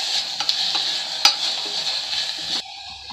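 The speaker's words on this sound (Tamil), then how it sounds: "இந்த நெய்யிலேயே நல்லா தீஞ்சிடாமல் வதக்கி எடுத்துக்கோங்க" Grated bottle gourd sautés in ghee with a steady hiss, broken by a few sharp scrapes and clicks of a spoon stirring, then the sizzle drops off abruptly near the end.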